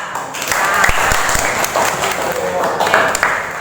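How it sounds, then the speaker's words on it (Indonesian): A classroom of students gives a brief round of applause, a dense burst of clapping that stays fairly loud and close for a few seconds, with voices mixed in. "Tepuk tangan."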